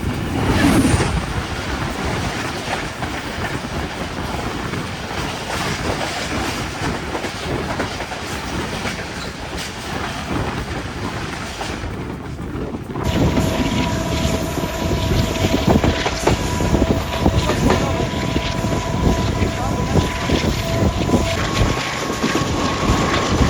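Tezgam passenger train on the Hyderabad–Karachi section heard from on board, a loud, steady rumble with rhythmic clickety-clack of wheels on rail joints that grows louder and brighter partway through.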